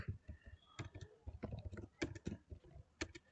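Quick irregular clicks of keyboard typing, close by, running under steady talking.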